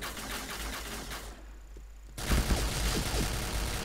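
Point Blank game gunfire, dense crackling shots that drop out briefly to near silence and then return louder, a continuous fusillade from close range.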